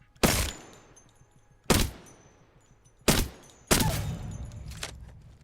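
Submachine gun fire in Apex Legends, four sharp loud bursts spaced about a second and a half apart, the last one longer with a trailing rumble, no talking.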